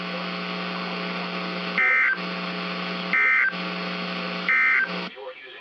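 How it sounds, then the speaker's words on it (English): NOAA weather radio warning alarm tone: three loud, steady high beeps, each about a quarter second, sounding over a continuous electronic drone and ending in crackly static. "the warning alarm will be activated for hazardous watches and warnings"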